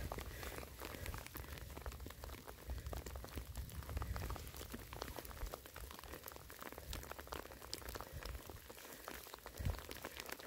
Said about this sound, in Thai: ฟังเสียงฝนตก